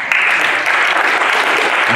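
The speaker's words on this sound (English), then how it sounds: "Somebody clap their hands." A church congregation claps loudly during a pastor's sermon, producing a brief, dense burst of many hands clapping at close range for about two seconds.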